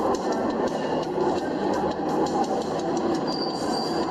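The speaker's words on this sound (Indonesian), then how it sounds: "Kereta cepat super canggih." Rumbling rail noise of a high-speed train in Indonesia, a steady loud roar with faint wheel squeal and clicking throughout.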